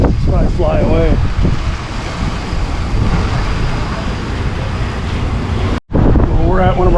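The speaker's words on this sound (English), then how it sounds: "the wind is kicked up big time" Strong wind buffets the microphone outdoors at a roadside stopping point, a loud continuous roar with a brief dropout near the end, while a person talks underneath it.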